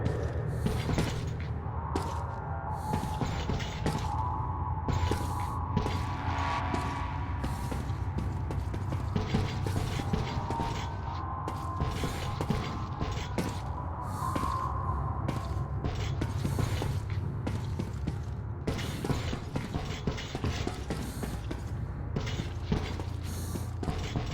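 Air filter machinery in a bunker in Metro 2033 Redux, a continuous mechanical clatter of rattling, creaking and ratcheting parts that runs steadily for the whole stretch.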